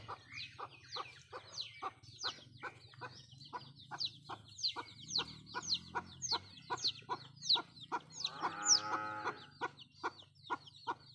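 Chickens and chicks on a rural farmyard near a pond cluck in a steady run of sharp, repeated calls, with a brief denser burst of louder clucking near the end; no one speaks.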